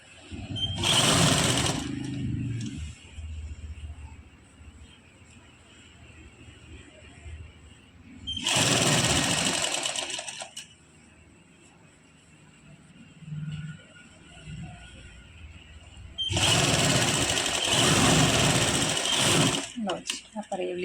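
A sewing machine stitches a shirt neckline in three separate runs, each a few seconds of fast, buzzing mechanical whirring. Someone talks quietly in the gaps between bursts.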